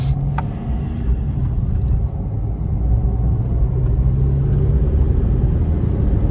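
Inside a Maruti Dzire AMT automatic on the road, the engine hums in a steady low rumble as the car picks up speed, with continuous road noise and no talk.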